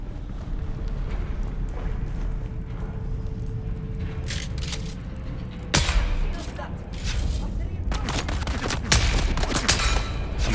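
Gunfire in the video game Dune Awakening, with sharp cracks bursting out mid-clip and again near the end over a steady hum of game ambience, while speech comes and goes under the noise.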